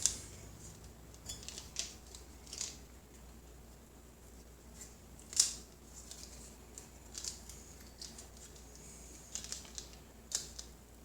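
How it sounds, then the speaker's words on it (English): Slicer dicing artichokes for a Sicilian stuffed-artichoke dish: quiet, irregular clicking and tapping taps scattered through the clip, with one sharper snap near the middle, all faint and close with no talking. "you want to dice these up, so I generally do that with a slicer"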